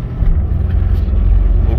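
Several off-road cars head toward the Dzama gorge, heard as a loud, close, low engine and road rumble that holds steady without a break. No one speaks.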